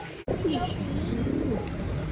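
Pigeons in a loft coo softly and repeatedly against a dense background of wing flutter and low bird chatter, close by and continuous.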